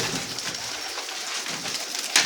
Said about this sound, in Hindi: ये टैडी कबूतर